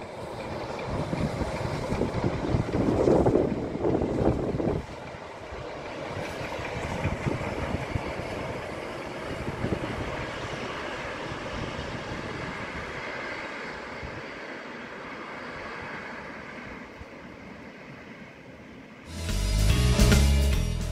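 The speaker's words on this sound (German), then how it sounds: "Vorbei an Bichlingen nähert sich der Zug Meßkirch." Steam locomotive 23 058 passing on the Ablachtalbahn near Meßkirch, a steady rolling rumble of the train heard from nearby, with a louder low burst at the start and another rising near the end.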